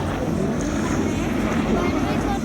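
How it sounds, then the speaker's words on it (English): Apache attack helicopter in a flying display at an outdoor Armed Forces Day show, diving steeply nose down and twisting right; steady broadband rotor and engine roar fills the air continuously at moderate distance, with speech faintly mixed in. "Descending with a 90 degrees nose down, twisting to the right to reposition the aircraft for a further attack."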